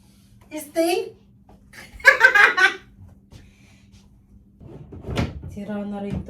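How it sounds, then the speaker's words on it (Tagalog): A broken desk drawer is pulled open and pushed shut in a few short wooden knocks and scrapes, with people talking and laughing nearby. "Itong drawer sira na."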